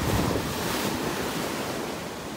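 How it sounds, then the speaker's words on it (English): Ocean waves roll onto a beach in North Naples, Florida on an early morning, a steady broadband wash of surf with wind rumble on the microphone and no voices. "We get to enjoy some beautiful waves out here and the sounds of the waves."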